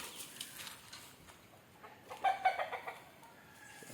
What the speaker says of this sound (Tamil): எல்லா கோழியும் நடந்து கிண்டிட்டு இருக்கு ப்ரோ.